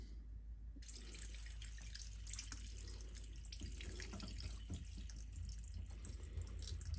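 Water drains from old heating-system pipes, starting abruptly and then pouring and trickling continuously, like a running tap. The sound is fairly quiet and close, with no voices.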